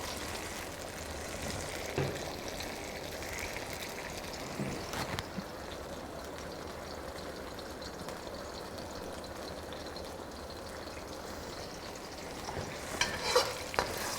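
Dark soy sauce and other ingredients sizzle steadily in a pan as they are stirred, a continuous frying hiss with occasional scrapes and clinks of the utensil, close and moderately loud, with no talking.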